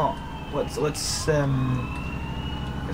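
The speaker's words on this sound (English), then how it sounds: "those sirens are going to get annoying if they don't disappear sometime soon" A siren wails in the distance, rising and falling, partly under a man's speech, with a brief burst of noise in the middle.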